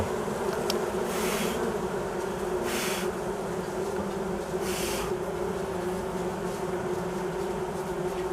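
Honeybees buzz densely and steadily at a hive as smoke is puffed over them to drive them and the queen into the winter nest. The hum is close and continuous, with no talking.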